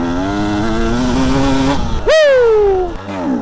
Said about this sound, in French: Petit accel pour décrasser le moteur